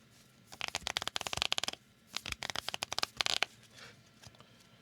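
Two bursts of riffle shuffling from a Premodern Magic tournament deck, rapid close fluttering card clicks, then a quieter settle at the end.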